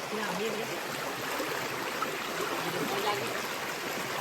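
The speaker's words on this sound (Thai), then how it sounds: "เนี่ยน้ำไหลลงไปแบบนี้นะครับ" A forest stream flows steadily in the dark with a broad, constant rushing sound, close by and unbroken, with no voices over it.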